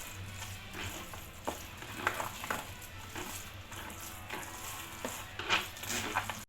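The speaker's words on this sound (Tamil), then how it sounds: "இப்போ நம்ம தயிர் போட்டு பிழிஞ்சிருக்கோம்." Curd is squeezed and mixed into cooked rice by hand for curd rice, giving a soft, steady wet squelching with small irregular squishes throughout. No one talks.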